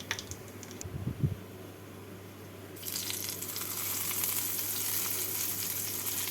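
Hot tempering of dried red chillies and five-spice seeds poured onto rui fish after the gas is switched off, bursting into a loud, steady sizzle that swells after a few seconds and keeps hissing, with a brief clatter at the start.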